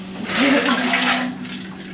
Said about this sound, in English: So I'm just getting some ice water for the eggs.